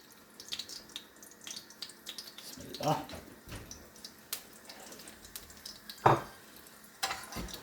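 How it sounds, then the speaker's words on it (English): Whole fenugreek, cumin seeds and a bay leaf crackle and sizzle in hot oil over high heat, a soft scattered popping with a few louder spits, under faint kitchen sounds. "Let that crack a little bit, let the fenugreek and the bay leaf and the cumin seeds release the flavours or the aroma."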